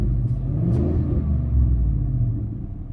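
A 2016 Ford F-150 pickup engine revs up through an aftermarket Flowmaster cat-back exhaust with a deep, throaty rumble, steady and close, no voices.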